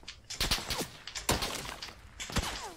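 Gunfire in the PUBG video game on Xbox One: several sharp, loud shots in bursts spread across a few seconds, some with crisp echoing tails, with a player's voice faintly under them.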